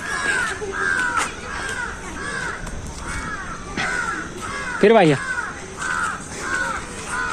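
A crow caws repeatedly in a children's park, loud, close, rhythmic calls in a steady series, with a short phrase spoken in between.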